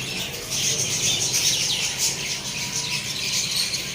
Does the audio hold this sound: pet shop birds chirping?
yes